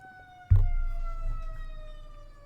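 A police siren wails from a passing vehicle, its steady descending tone holding nearby after a sudden low thump, then slowly fading as it moves away.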